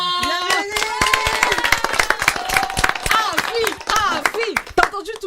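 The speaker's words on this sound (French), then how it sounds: "t'as entendu tout ce monde là qui applaudissait derrière?" Audience in a studio clapping rhythmically and cheering, loud and close, with voices shouting and singing over the claps throughout.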